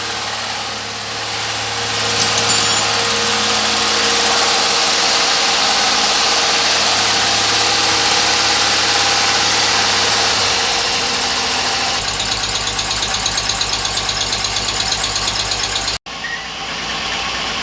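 Holden Ute engine with hydraulic tappets and a cracked spark plug insulator, idling rough after starting. It runs at a steady, close mechanical idle that shifts in pitch partway through and cuts out briefly near the end.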